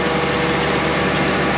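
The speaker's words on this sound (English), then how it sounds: "Yeah, that's our chopper setup." A tractor-driven forage chopper's engine runs steadily and loudly up close, a constant broadband mechanical roar with no talk over it.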